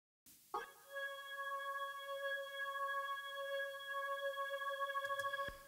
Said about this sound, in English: the Hammond style synthesizer, I just used a tape simulator, a compressor, and then this room simulated reverb